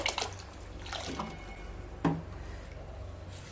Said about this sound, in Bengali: এবার ধুয়ে নেব, 3-4 বার খুব ভালো মতো ধুয়ে নিতে হবে।